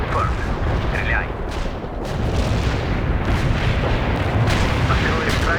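An artillery barrage pounds continuously in the World in Conflict battle game, dense rumbling blasts and booms layered thick and loud throughout, with voices talking beneath the noise.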